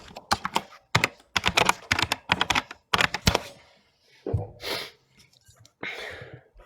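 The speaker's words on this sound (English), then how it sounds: "No, I got a mechanical keyboard. It's loud." A loud mechanical keyboard clacks in quick, uneven bursts of typing with short pauses between them. The keys sound close and dominant, and a few softer breathy or voice-like sounds come near the end.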